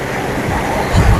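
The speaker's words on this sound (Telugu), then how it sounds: "ఓకే, అలా వస్తున్నాయి, నీళ్ళు వస్తున్నాయి." Sea waves wash onto Thenneti beach in Vizag as a steady broadband roar of surf, with a heavier surge swelling near the end.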